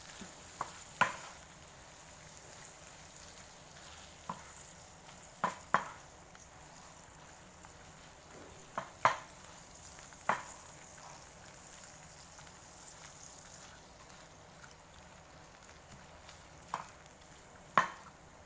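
Garlic butter shrimp sizzle softly in a pan while a utensil scrapes and clinks against the metal in scattered, sharp knocks over a low, steady frying hiss.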